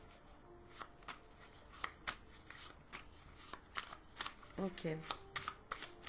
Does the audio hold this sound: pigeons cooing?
no